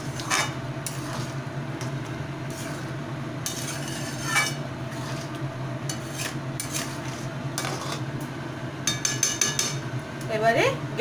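Winter vegetables and chopped coriander leaves stirred into dal in a pot on a gas flame, giving repeated clinks and scrapes of a utensil against the metal, busier and louder toward the end.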